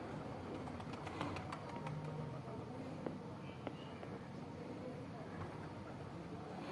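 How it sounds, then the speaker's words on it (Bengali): A flock of pigeons settles onto a rooftop, their soft cooing mixing with scattered wing flutters and faint background noise, and a voice talks over them. "এই দেখুন দেখুন দেখুন ঝাঁকে ঝাঁকে পায়রাগুলো নামছে"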